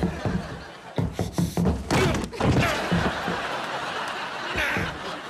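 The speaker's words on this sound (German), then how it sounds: "ich breche die Tür auf!" Door being forced open in a German audio drama: a rapid series of heavy thuds and slams, then a louder crash and sustained rattling noise, close and loud.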